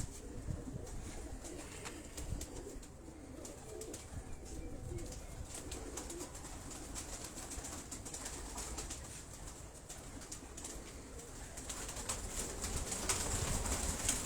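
Fancy pigeons kept for hobby flying coo steadily in a loft, a dense bed of overlapping calls with scattered rustles and flutters, swelling slightly toward the end.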